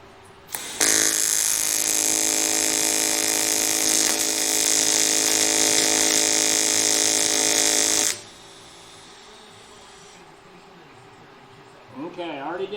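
A TIG welder with high-frequency start, an AHP Alpha Tig 203xi set to 180 amps on quarter-inch work, holds a loud, steady buzzing hiss for about seven seconds and then cuts off, with a voice speaking briefly afterward.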